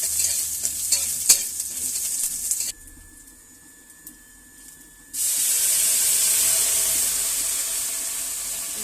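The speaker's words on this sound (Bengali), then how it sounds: "পেঁয়াজটা দিয়ে ভাজা ভাজা হয়ে যাবে" Onions frying in a pot for a bottle gourd and lentil dal, a crackling sizzle with stirring scrapes up front, a quieter hissing lull in the middle, then a loud steady sizzle after more goes into the hot pan.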